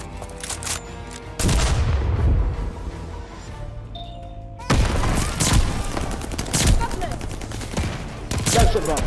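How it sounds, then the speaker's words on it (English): An allied mortar strike in a first-person shooter game lands as loud, heavy booms with rapid gunfire bursts, a brief lull, then another roaring barrage of explosions and shots. "Allied mortar coming."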